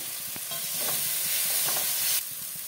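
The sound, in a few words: frying spice paste with tomato and green chili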